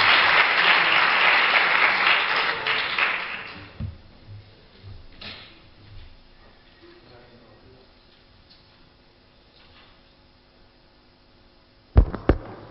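Audience applause for a speaker at a cycling seminar, a loud burst of clapping for about four seconds that dies away into a quiet room with scattered small knocks and a sharp bump near the end.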